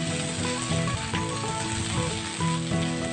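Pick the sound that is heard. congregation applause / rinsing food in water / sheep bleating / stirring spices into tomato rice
stirring spices into tomato rice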